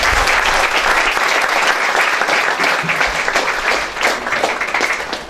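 Loud, dense applause from a church congregation fills the whole stretch, steady and close with no speech over it.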